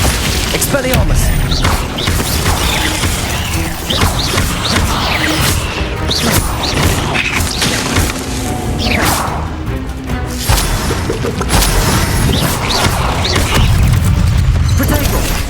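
Spell combat in the video game Hogwarts Legacy, with an Expelliarmus disarming spell among dense, loud layered booms, crashes and whooshes that continue without pause, a shouted incantation also heard over the action.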